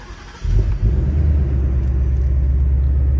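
A Ford Mustang just collected from the dealership cranks and fires after a brief quiet moment, then settles straight into a deep, loud, rumbling idle.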